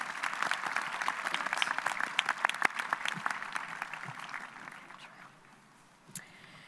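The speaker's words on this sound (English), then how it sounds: "But still, give him a round of applause" Audience applause at a Saddleback College commencement ceremony, a dense steady round of many hands clapping that thins and fades toward the end, with a brief sharp sound near the close.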